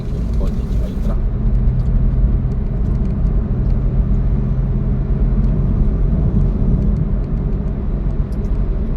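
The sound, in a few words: car and truck being overtaken on expressway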